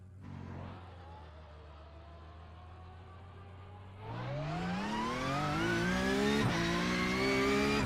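Porsche 992.2 Cup race car in the iRacing sim at Adelaide: engine idles steadily, then revs climb sharply, with a brief dip and gear change near the end, heard alone with no talk.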